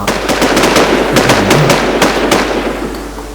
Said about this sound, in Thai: เสียงปืนใกล้ผมมาก